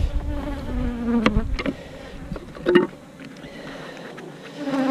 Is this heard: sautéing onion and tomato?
no